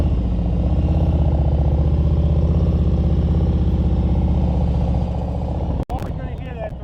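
A motorcycle engine held at elevated throttle while riding slowly, a steady close pulsing drone that stays loud and even before a sharp break near the end.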